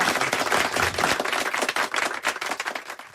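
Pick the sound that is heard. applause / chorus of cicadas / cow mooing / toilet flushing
applause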